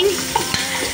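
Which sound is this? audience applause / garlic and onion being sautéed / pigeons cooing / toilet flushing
garlic and onion being sautéed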